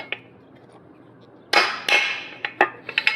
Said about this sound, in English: go to the other side diagonal and hammer it down